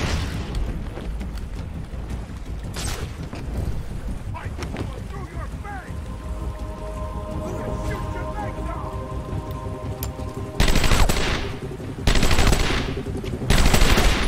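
Enemy gunfire in Batman: Arkham Asylum, heard as a noisy, crackling burst of rapid shots mixed with other game sounds, growing louder in short blasts toward the end, with a voice talking over parts of it.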